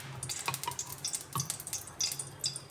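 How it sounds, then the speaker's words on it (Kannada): Two spoonfuls of ghee go into curd rice with soft wet taps and light drips, small clinks and sizzly scraping in short irregular bursts, close and quiet. "ಸೊ ನಾನು 2 ಸ್ಪೂನ್ಸ್ ತುಪ್ಪ ಹಾಕ್ತಾಯಿದ್ದೀನಿ"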